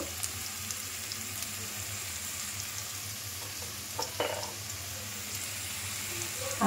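A spice mixture with cumin powder sizzles steadily in a pan while being stirred, a close continuous frying hiss with a few brief scrapes and clatters near the end.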